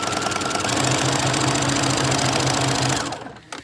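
A sewing machine runs steadily at speed stitching a train case project, a close, continuous mechanical whir and rapid needle clatter that stops abruptly near the end.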